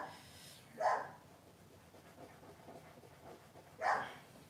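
A female dog barks twice, each a single short, loud bark about three seconds apart, against a quiet indoor background.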